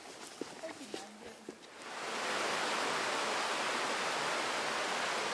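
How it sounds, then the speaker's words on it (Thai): A waterfall stream in the Inthanon mountains flows down toward a larger river. Voices talk at first over faint background sound, and then a loud, close, constant rush of falling water takes over. "น้ำตกเส้นนี้นะครับก็จะไหลไปรวมกลายเป็นน้ำแม่กาดนะครับ"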